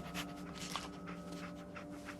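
A dog, the companion Dogmeat in the Fallout 4 video game, pants quietly in rapid rhythmic breaths over a faint humming game soundscape, soft and close.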